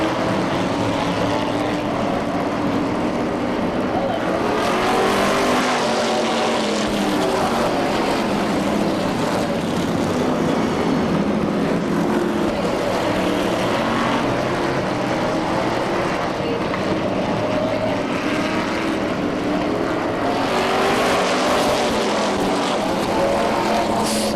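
A 1998 weekly stock car race at Seekonk Speedway, including a Mustang Fastback with a 350 Chevy engine, fills the air with a continuous loud roar of racing engines, with an announcer talking over it.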